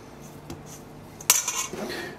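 A fork lightly mixing potato pancake batter for Samogitian meat-filled pancakes in a bowl, giving a few soft clinks and scrapes, then a sharper burst of metal-on-bowl stirring near the mic with no talking.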